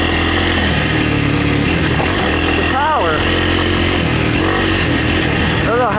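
A Kawasaki KLX300R dirt bike on a trail runs with a steady, loud engine drone and wind rush, with a voice talking over it throughout.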